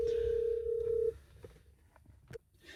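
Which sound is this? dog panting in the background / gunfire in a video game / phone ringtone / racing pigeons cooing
phone ringtone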